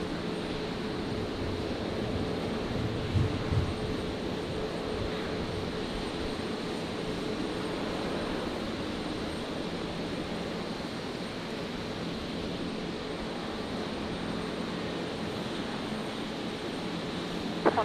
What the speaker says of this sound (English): Next arrival here, the Qantas Link, Embraer 190